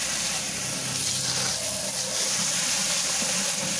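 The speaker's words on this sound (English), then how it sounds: "hose it out inside" A hose sprays water into a plastic fish tub, a steady broadband hiss and splash that carries on without a break for a few seconds.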